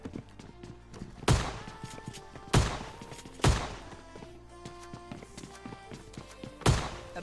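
Shotgun blasts in a quick fight in the mobile shooter PUBG Lite: four loud, separate booming shots spaced a second or more apart over a quiet tonal game background.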